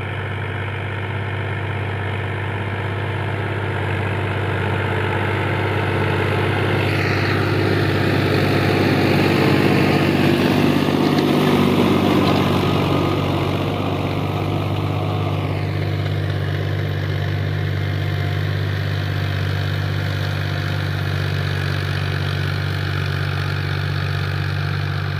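A new 2019-model car engine idles steadily with a low, constant hum that stays close and loud throughout and rises slightly in the middle.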